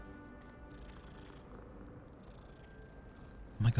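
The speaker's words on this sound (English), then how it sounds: "Oh my god, the purring." A cat purrs softly in a Harry Potter wizard video game, a low continuous rumble with faint tonal game sounds behind it, ending in a brief louder bump.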